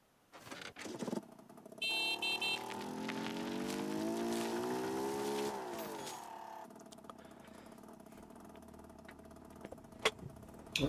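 A motorcycle engine in the video game Generation Zero, starting with a sputter and then a sustained rising revving whine that climbs in pitch before dropping back to a lower idle rumble with a few clicks.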